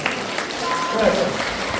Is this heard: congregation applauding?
yes